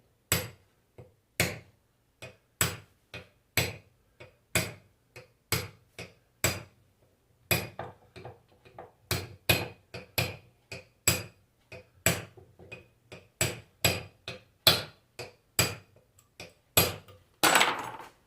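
A tool taps repeatedly against a Fiat Idea alternator that has a bearing noise, making sharp metallic knocks about one per second, with the pace quickening and the hits getting slightly louder toward the end.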